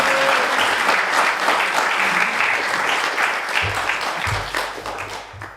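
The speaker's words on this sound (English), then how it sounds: "If you can quickly give me a round of applause for Aretha Rodney McDonald." Audience applause for Aretha Rodney McDonald at a songwriter's talk, a loud, steady crowd clapping that holds for several seconds and thins slightly toward the end as a voice begins.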